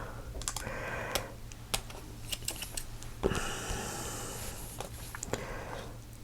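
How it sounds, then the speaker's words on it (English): Quiet, sharp snips and clicks of scissors trimming ribbon at the edge of a card scatter irregularly, close by, with a soft rustle in places and a faint hum underneath. "I'm just going to trim this ribbon right to the edge of the card."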